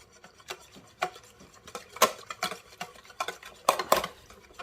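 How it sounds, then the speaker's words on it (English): Egg and cinnamon stirred together in a bowl, with irregular scraping, tapping and clinking of a utensil against the bowl, close and fairly quiet. "Doesn't need to be too super combined, but give it a bit of a mix."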